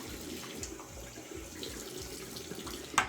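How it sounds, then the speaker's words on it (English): Hot tap water runs steadily from a faucet into a sink over a metal eyelash curler, a close, continuous splashing hiss with a brief sharper clink near the end. "Basically you run it under hot water."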